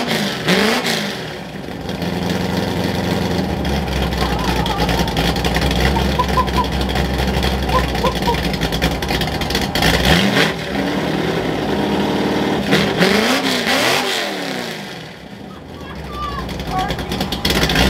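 Ford F100 truck fitted with a custom NASCAR-style exhaust, its engine rumbling loud and close at idle and rising in several revs, with people talking now and then over the exhaust note.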